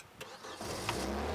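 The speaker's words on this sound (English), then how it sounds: "Let's go out and see if we can get this darn forklift to start." A forklift engine cranks briefly and catches, settling into a low rumbling run, heard close and loud over a short burst with no voices.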